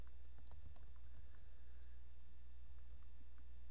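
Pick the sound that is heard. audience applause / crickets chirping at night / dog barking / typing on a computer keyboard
typing on a computer keyboard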